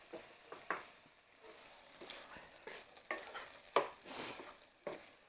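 Ground turkey and minced garlic browning in a pan, with faint sizzling under repeated scraping and stirring strokes, the utensil knocking against the pan several times at an uneven rhythm.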